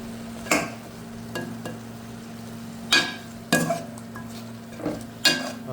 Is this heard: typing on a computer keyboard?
no